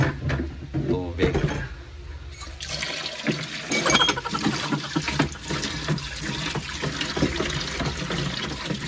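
Water runs and splashes into a container while juice is being mixed, a close, steady gush with clatter and handling knocks, under a person talking at the start.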